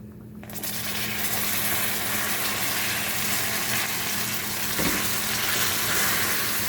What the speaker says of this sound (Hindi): अब मैं इसमें थोड़ा सा पानी ऐड कर दूंगी